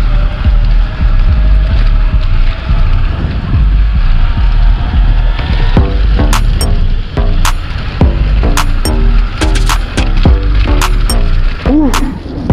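A 2kW electric bike conversion rolls along at speed with heavy wind buffeting the microphone throughout, loud and constant, joined in the second half by sharp intermittent clicks and rattles.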